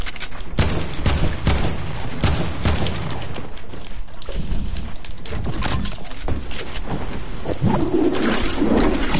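Repeated gunshots ring out in a video game battle against an enemy, fired in sharp, closely spaced bursts over busy background game sound for the whole stretch.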